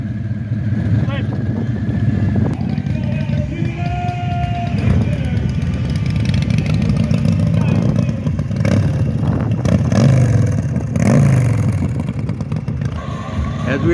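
Harley-Davidson motorcycle doing a burnout at a Peterson Harley-Davidson event in North Miami, its engine revving loudly and continuously with rising bursts, amid crowd noise and talk.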